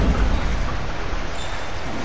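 Rain and thunder at home, a loud, steady wash of heavy rain with a deep rumble of thunder, close and continuous with no talking.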